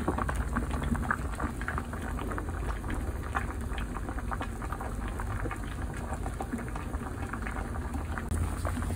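Potatoes boil in a pot of water on the stove with a steady, continuous bubbling and popping, fairly soft and even throughout, with no talking.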